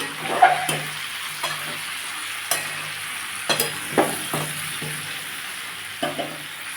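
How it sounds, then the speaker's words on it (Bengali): Prawns are stirred into a pumpkin and potato curry in a pan. The mix sizzles steadily throughout, and a spatula scrapes and knocks against the metal in irregular bursts, close and clear, with no voices. "এবার আমি চিনি মাছগুলো এর মধ্যে দিয়ে দেবো দিয়ে একটু নেড়ে নেব"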